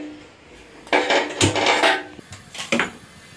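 A wok is set down on a gas stove with a few close metallic clanks and scrapes, spaced over a couple of seconds against quiet kitchen background.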